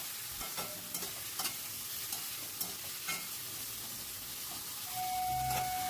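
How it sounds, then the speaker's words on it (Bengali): Chopped tomato is stirred into a spice masala frying in a pan, with repeated scraping strokes of a spoon over a steady close sizzle that grows louder and fuller near the end. "টমেটোটা দিয়েও আবারও সব কিছু ভালো করে মিশিয়ে নিচ্ছি।"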